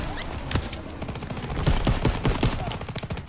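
Rapid World War II gunfire from Call of Duty WW2, dense volleys of rifle and machine-gun shots cracking in quick irregular bursts, loud and close, with heavier thumping reports toward the end.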